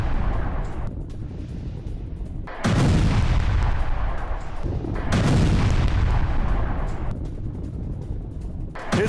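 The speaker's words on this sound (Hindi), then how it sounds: "रूस के ब्रियांस्क में यूक्रेन की एयर स्ट्राइक।" Air strike explosions in Bryansk, Russia, heard as repeated heavy booms with a broad, loud roar and rumbling decay between blasts.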